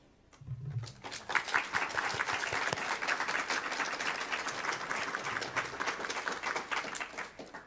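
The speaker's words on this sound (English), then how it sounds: "could I please ask that we give a round of applause for our out-of-school time partners" A crowd at a school district budget presentation breaks into applause after a brief spoken phrase, sustained even clapping from many people filling the room for several seconds before tapering off.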